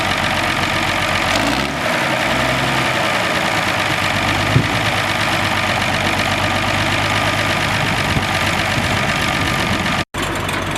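An International Harvester 560 diesel tractor idles at a Red Power Round Up show, a loud, steady low diesel chug that holds continuously and close by with no talking.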